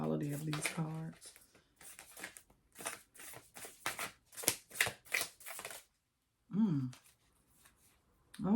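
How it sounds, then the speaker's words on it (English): Tarot cards being shuffled with some difficulty, giving repeated crisp riffling bursts close by, broken by short pauses, with brief voiced sounds at the start and near the end. "Still a little hard to shuffle"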